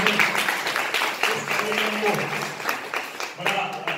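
Audience at a drug-free India campaign event in Hisar applauding a speaker, a dense steady wash of clapping throughout, with voices mixed in.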